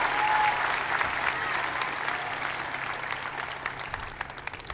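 At a high school graduation ceremony, an audience gives a sustained round of applause. The dense, even clapping from many hands gradually thins toward the end.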